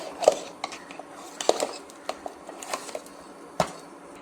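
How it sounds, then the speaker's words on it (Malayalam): A spoon scrapes and taps against a pan while stirring a thickening mixture, irregular light clinks and knocks spread over a few seconds, close and unaccompanied by talk. "കുറേ സമയം കൂടി നമുക്കിത് ഇളക്കി കൊടുക്കാം"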